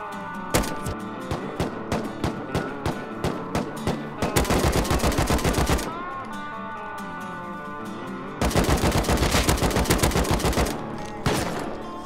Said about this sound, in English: There was an auto turret covering this player's loot.